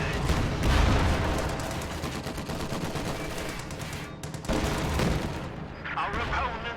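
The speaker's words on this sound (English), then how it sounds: "The Jacksons are blowing up the Tier 2 structure while the Sherman annihilates all Oster infantry on the HQ." Heavy explosions and repeated cannon and gunfire from a Sherman tank and a destroyed structure in a World War II strategy game rumble on under fast commentary.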